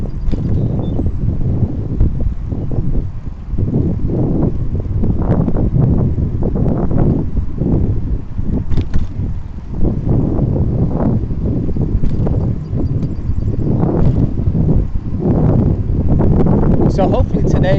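Steady, loud wind buffeting the microphone while riding a bicycle along the Dayton, Ohio river bikeway, a continuous low rumble with gusty swells and no break throughout.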